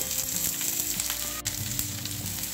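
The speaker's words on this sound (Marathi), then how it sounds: "यावर आपण थोडंसं तेल घालूया, म्हणजे मसाला जो आहे हा छान असा खमंग भाजला जातो" Spiced masala for a Marathi bombil (Bombay duck) bhaji roasting in a little oil, giving a steady, close sizzle and crackle that runs unbroken with no talking.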